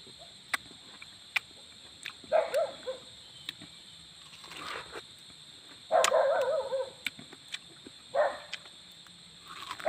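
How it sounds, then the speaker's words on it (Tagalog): An agitated dog barks in a garden in several short, sharp bursts spread across the stretch, moderately close, with quiet background hum between them. "Gagalit yung aso kasi hindi natin binigyan."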